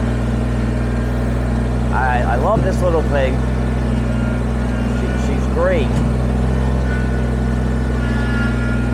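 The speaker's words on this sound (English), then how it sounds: "I do not wanna hurt my little tractor." Kubota BX23S compact tractor engine running steadily while moving logs during property clearing, a constant low drone throughout with a person talking over it.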